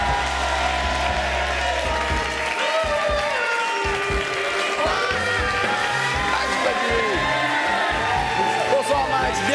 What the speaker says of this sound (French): Je veux un tonnerre d'applaudissements pour Monsieur Max Guazzini.